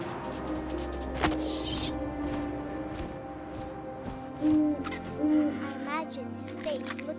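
An owl hoots several times in the video game What Remains of Edith Finch, with short tonal calls repeating over a windy, rustling background and a sharp knock early on.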